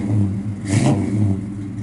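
A 1957 Chevrolet Bel Air two-door hardtop with a 700R overdrive transmission revs hard, its deep rumbling exhaust swelling into a brief louder rev midway. The car is close and loud, with no voices.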